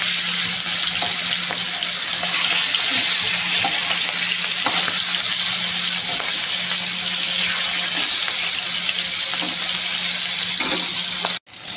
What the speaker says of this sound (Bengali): এই মাছটা খুব ফাটে, ভেজে নেব